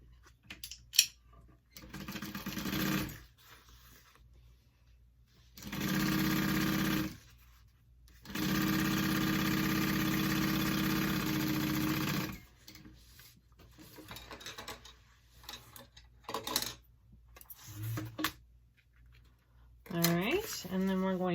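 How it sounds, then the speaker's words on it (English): A sewing machine stitches a 3/8-inch seam on a mini backpack, running in two long steady bursts separated by pauses, with quieter mechanical handling and scattered talk between the runs. "you're going to sew that on at a 3/8."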